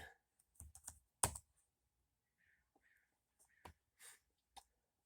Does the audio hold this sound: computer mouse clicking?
yes